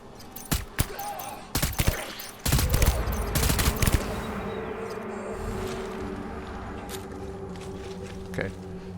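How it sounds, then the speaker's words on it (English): Gunfire in the video game Death Stranding: a burst of rapid, crackling shots and impacts, loud and close at first, then fading into a busy, noisy game soundscape with scattered softer pops. "Can I just shoot this guy from here?"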